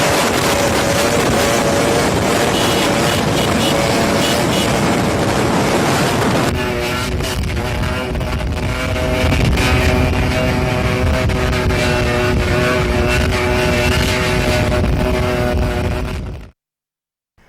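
Motorcycles ridden at high speed doing wheelie stunts on a highway: a loud, continuous roar of engines and rushing wind buffeting the microphone, with a change in tone partway through and an abrupt cut to silence at the end.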